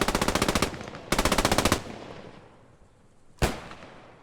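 Machine gun fire in the video game Post Scriptum, two loud rapid bursts close together followed after a pause by a single sharp shot, with no talk.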